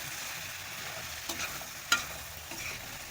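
Chicken masala with coriander and chili powder being stirred in a pan, a soft continuous sizzle with a few light clinks and scrapes of the spoon.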